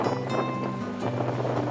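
Roaring surf from ocean waves on the south coast beach, a steady broadband wash with wind blowing across it, continuous throughout with no talking.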